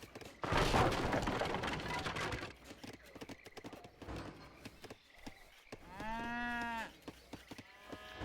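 Cows moo in the Age of Empires video game, several short lowing calls near the end among game clatter, hoof-like clopping and bursts of battle noise.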